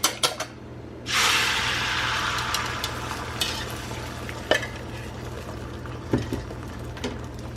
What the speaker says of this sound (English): now we're gonna go ahead and add our egg mixture.